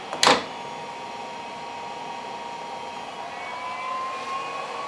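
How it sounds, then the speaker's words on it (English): A Kaleido M10 coffee roaster cools down with its exhaust fan running, a steady airy whoosh with a faint rising tone, opened by one brief loud knock. "leave your exhaust fan on. You can bump it up just as high as it can go."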